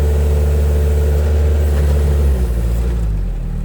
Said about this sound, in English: I'm giving it more gas.